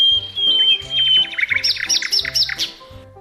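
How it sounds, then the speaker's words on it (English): Nightingale song: a run of sweet, high whistled notes and quick chirping trills, loud and close, repeated in short phrases over a soft low accompaniment. "Nightingale is a small bird. It is famous for its sweet and beautiful song."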